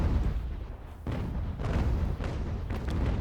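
Cannon broadsides from sailing warships in Ultimate Admiral: Age of Sail, a dense run of deep booms and rumbling blasts that overlap into continuous naval gunfire.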